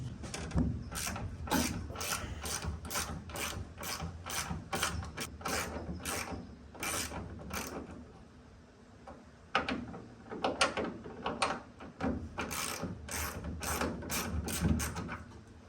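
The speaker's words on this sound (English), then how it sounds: "You're gonna take this bolt all the way out." Socket ratchet backing a bolt out of a 1999–2006 Chevrolet Silverado tailgate, giving quick bursts of rapid clicking with brief pauses between strokes, close and fairly quiet.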